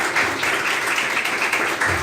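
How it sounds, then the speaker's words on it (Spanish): A church congregation applauds during a Sunday service, with dense, sustained clapping that stays steady and even for the whole stretch and has no voices over it. "Denle un aplauso al Padre eterno, por favor."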